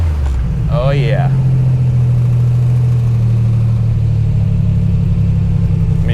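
A 1987 Buick Grand National engine idles with a steady, low rumbling drone that holds evenly throughout, close and fairly loud, as a voice speaks briefly over it near the start.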